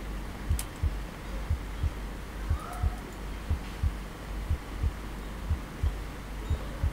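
A heartbeat plays in the REC Shutter video game, a steady, close thumping pulse of double beats repeating evenly about twice per second over a low hum, with a brief faint murmur from a voice.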